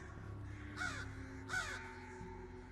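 Crows on a college campus giving alarm calls, two harsh, strident caws about a second apart, close and clear over a low background hum.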